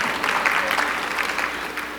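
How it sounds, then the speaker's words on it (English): Dense, steady applause from an audience at a speaker-series talk fills two seconds, loud and continuous with no pauses. "It's okay to clap."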